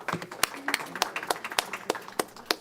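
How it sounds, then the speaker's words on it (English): Scattered, evenly spaced hand claps from a small audience at a school board meeting during student recognitions, crisp and moderately close, with no talking. "I don't mind if you clap every time."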